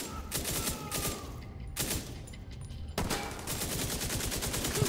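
Heavy suppressing gunfire in the shooter game The Division 2, loud bursts of rapid automatic shots in several volleys with short breaks between them.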